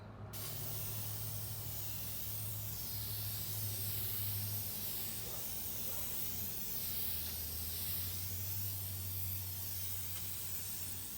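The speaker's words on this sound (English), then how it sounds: "to spray it evenly from side to side" A steady, continuous hiss of an aerosol spray can, close and unbroken for the whole stretch, with a low hum underneath.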